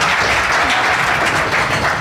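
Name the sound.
audience applause for recruiters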